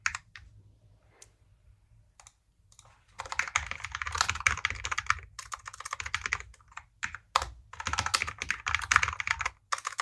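Typing on a computer keyboard during a Sunday morning coding session, a recently changed keyboard: bursts of fast, close keystroke clicks after a quiet start, with brief pauses between runs.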